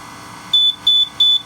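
Three short, loud, high-pitched electronic beeps in a steady rhythm from the control unit of an aftermarket power frunk kit being set up on a Tesla Model Y, each tone lasting about a fifth of a second with brief gaps between.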